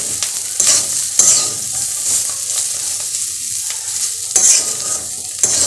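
Vegetables frying in an old wok, a constant bright sizzle with occasional louder scrapes and stirs of a utensil, close up and without any talking.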